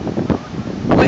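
Hurricane Sandy's wind gusts at Cape Canaveral, Florida, recorded on a cell phone, come as a rough, low roar of buffeting microphone wind that surges in two short blasts.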